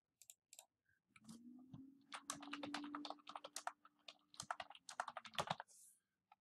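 Quick, uneven bursts of typing on a computer keyboard, close and clear, with dense clusters of key clicks over a faint low hum.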